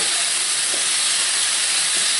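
Venison slices sizzling on a hot griddle for a cheesesteak hoagie, a loud, steady, close frying hiss with no break and no voices.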